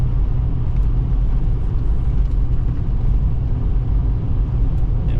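A Ford 6.7L Powerstroke diesel truck engine, recently repaired for coolant loss, idles with a steady, close low rumble that holds even throughout, with no voices over it.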